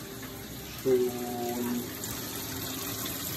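Cold water rushes steadily through an electric instantaneous shower water heater, a continuous running-tap flow with a brief louder surge near the start, and a voice briefly speaks.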